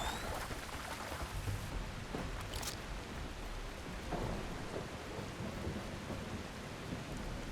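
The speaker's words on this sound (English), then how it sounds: "it's very rainy and stormy and not very nice" Heavy rain and a thunderstorm in The Last Caretaker video game, with a continuous wash of rainfall and low rolling thunder rumbles, fairly quiet and steady, without voices.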